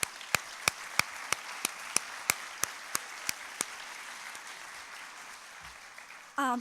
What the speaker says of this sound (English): please join me in a little applause for him